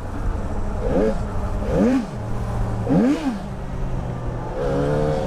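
A Yamaha XJ6 motorcycle fitted with dirt trail tires revs up repeatedly, three or four rising and falling engine surges in a row, loud and close, with the engine idling between bursts.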